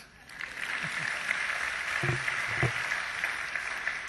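Audience at the 2010 Dan David Prize award ceremony applauding the laureates for the Future Time Dimension, a steady moderate wash of clapping from a distance with a few louder individual claps.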